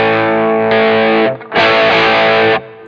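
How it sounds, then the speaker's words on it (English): Electric guitar played through a distortion pedal, loud sustained saturated chords ringing out in two strums with a short gap between them, no talk. "Sometimes you'd want distortion as a boost, but sometimes you wouldn't want it to suddenly get crazy loud when you kick your distortion on."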